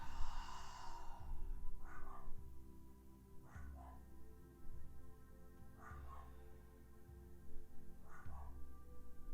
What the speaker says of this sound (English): You can hear him barking.